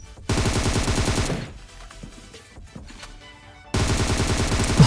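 Loud rapid gunfire bursts in a battle royale video game, with a long automatic volley, a quieter stretch of scattered shots and movement, then another sustained burst.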